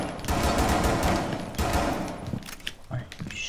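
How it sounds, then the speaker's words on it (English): Bursts of automatic gunfire in a Rainbow Six match, loud rapid rattling that fades into scattered lighter clicks and thuds, with a voice speaking briefly over the shooting. "I shoot."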